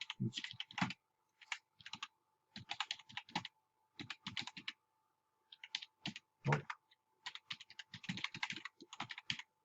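Keys clatter on a computer keyboard as a website address is typed, in quick bursts of close, crisp clicks separated by short pauses, with no talking.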